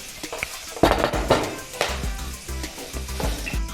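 Cardamom pods, cinnamon and cloves hit hot oil left over from frying fish for an Assamese fish curry, giving a close, steady sizzle broken by several sharp bursts and the scrape and clink of a stirring spoon against the pan.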